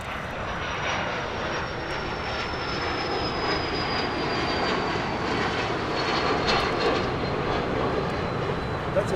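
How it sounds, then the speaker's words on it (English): A private jet passes near LAX with a loud, sustained engine roar and a high whine that slowly falls in pitch as it goes by, steady throughout with no talk. "That's another private jet."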